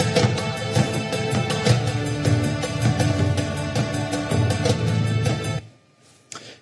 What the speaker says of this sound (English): note by note, Amper will create a unique piece of music that sounds something like this.